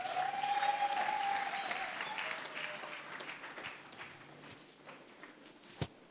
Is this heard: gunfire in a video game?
no